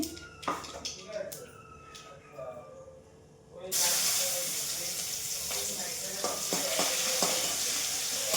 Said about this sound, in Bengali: দেখো মাছটা করে নিচ্ছি, ট্যাংরা মাছ করছি।